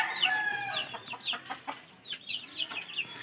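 Chickens and chicks at a local poultry farm cluck and cheep in short, irregular bursts, with a brief crow-like call at the start, fairly close and without speech.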